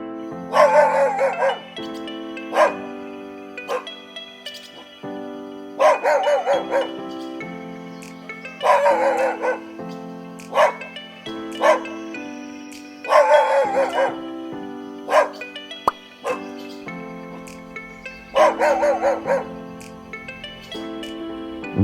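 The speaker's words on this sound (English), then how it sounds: "Dog." A dog barks in short repeated bursts with musical backing in a children's animal-names program, the barks recurring every couple of seconds at moderate loudness.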